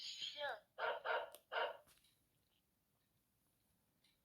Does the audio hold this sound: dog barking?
yes